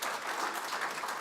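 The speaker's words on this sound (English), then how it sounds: "agro-dealers and AFAP, you deserve a clap here" A conference audience applauds in a brief, dense burst of clapping, steady and unbroken for just over a second.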